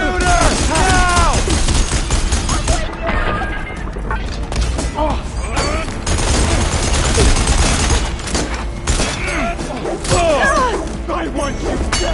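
A heavy firefight in Horizon Forbidden West: rapid overlapping gunshots and crashing impacts pour out almost continuously and loud, while battle shouts and voices keep coming over the noise.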